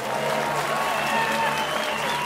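Dense, loud applause from an arena crowd for both fighters after an OPEN FC mixed martial arts bout in Voronezh, continuous clapping and crowd noise with an announcer's voice over it.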